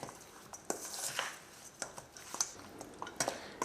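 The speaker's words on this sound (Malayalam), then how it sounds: "ഇതെല്ലാം കൂട്ടിയിട്ട് നമുക്ക് നന്നായിട്ടൊന്ന് മിക്സ് ചെയ്യാം" Mutton mixed with spices and salt in a bowl for a Kerala-style curry: faint, close squelches and soft clinks against the bowl, coming in irregular bursts with no talking.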